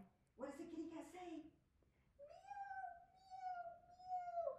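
A voice imitates a cat, giving a few drawn-out meows one after another, close and fairly loud, with brief pauses between them.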